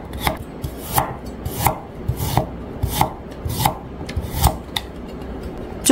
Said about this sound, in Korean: 육수가 탁해지지 않도록 마늘과 생강은 편으로 썰어요.